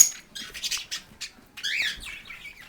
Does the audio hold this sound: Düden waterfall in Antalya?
no